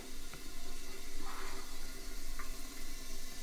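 Water runs steadily as a brewing vessel is filled halfway, a constant moderate rushing with a couple of faint clinks.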